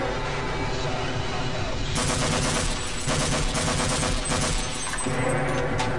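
Turret gunfire in Half-Life (1998), a dense, loud rapid burst of automatic shots that runs for several seconds and swells in the middle, with a voice talking over it.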